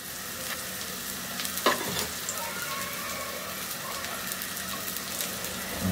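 Chopped garlic frying in a pan for spicy Chinese vegetable fried rice, a dense steady sizzle up close with a sharp clack of utensil partway through and light stirring scrapes.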